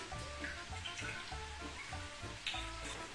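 Food sizzling in hot olive oil in a pan for fajitas, a steady close crackle with low rhythmic background pulses and no talking.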